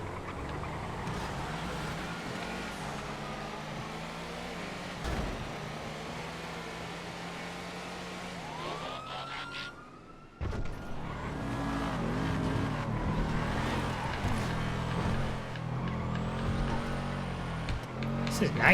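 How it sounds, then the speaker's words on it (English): A race car engine in a GTA FiveM lap race, droning steadily with gear shifts and revving that rises after a brief cut midway, loud and close, with someone talking over parts of it. "This is nice. I like that engine sound."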